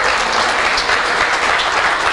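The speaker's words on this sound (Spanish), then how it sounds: "Dale el aplauso al Señor." A church congregation claps during a service, with a continuous, loud and dense wash of applause from a crowd close by, unbroken throughout.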